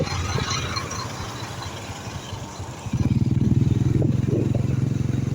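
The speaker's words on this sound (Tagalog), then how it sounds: "May mga motor dito. May motor." A motorcycle engine putters nearby, its steady low throb growing louder and more regular halfway through, with road noise and clatter.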